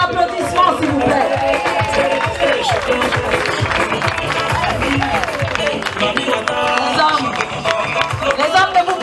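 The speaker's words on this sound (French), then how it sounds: "Avec vos applaudissements s'il vous plaît" An audience applauds models at an annual gala fashion show, producing a steady, dense wash of clapping that lasts throughout, with crowd chatter and voices mixed in.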